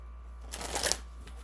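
A single quick riffle of tarot cards being shuffled, a short papery flutter lasting under a second, close and fairly soft against a quiet room.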